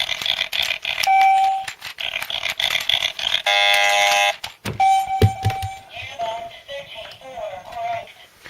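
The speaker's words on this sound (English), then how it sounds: "that timer's getting quite fast" Electronic timer alarm from a Rubik's Revo handheld toy game, a run of sharp tonal beeps and chimes that speed up, with a short buzzing burst mid-way, heard close and loud with some talk mixed in.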